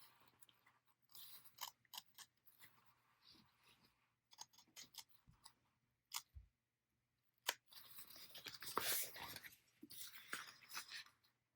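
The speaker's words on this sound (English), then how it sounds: "Then I'll work my scissors in there." Scissors snip into handbag material to open a slit, a series of short crisp cuts and clicks close up, irregularly spaced with pauses between, quiet and without talk.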